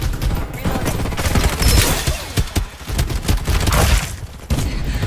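Heavy, continuous automatic gunfire and explosions in the battle game Farlight 84, loud and close, rapid shots rattling with barely a pause and no talking.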